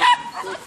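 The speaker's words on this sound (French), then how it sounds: "Regardez-moi ce petit caniche." A small poodle gives one short, sharp bark at an agility competition in France. It is quick and fairly close, followed by faint background noise.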